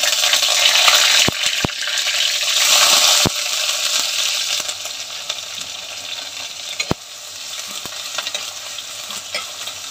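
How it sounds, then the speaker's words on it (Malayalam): Crushed ginger, garlic and curry leaves fry in a pan with a loud, close, crackling sizzle, broken by sharp clicks and spatula knocks, the hiss easing a little partway through, no voices. "ഈ ഇഞ്ചി വെളുത്തുള്ളി ഇച്ചിരി ഒന്ന് മൂക്കട്ടെ."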